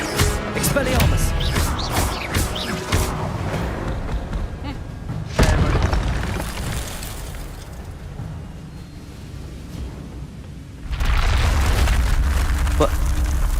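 Expelliarmus disarming spell cast in a Harry Potter video game, ringing out as a series of booming bursts and crackling blasts, with two heavier impacts spaced several seconds apart, mixed with voices.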